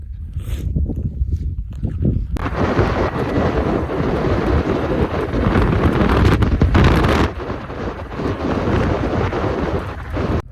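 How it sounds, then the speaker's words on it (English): Heavy wind buffeting the microphone on open Wyoming antelope-hunting ground, a continuous loud roar with gusts that swell and ease, no voices. "I know it's windy"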